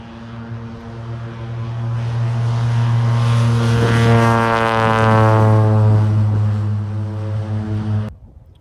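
An agricultural propeller plane passes close by at an airfield, its engine drone swelling to a loud peak and then fading as it moves away.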